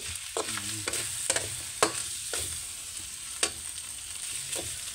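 Pig blood is stirred into sautéed meat for dinuguan, a spoon scraping and clacking against the pan in repeated strokes over a soft, steady sizzle, close and fairly quiet.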